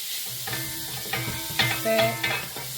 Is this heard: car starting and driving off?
no